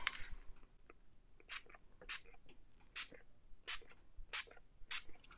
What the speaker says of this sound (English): I want to make sure it's spraying nicely.